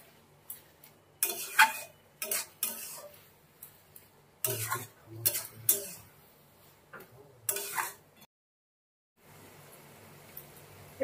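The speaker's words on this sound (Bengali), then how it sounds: "এবার একটু ভালো করে নাড়িয়ে দেব।" A spoon scrapes and clinks in a pan of bottle gourd and shrimp curry being cooked down until dry, giving a few irregular bursts of stirring with short pauses, then a brief silence.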